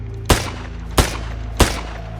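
Three sharp gunshots about 0.65 seconds apart crack through a forest in the zombie survival game Vector Zone, each one loud and trailing off in a short echo over a steady low background hum.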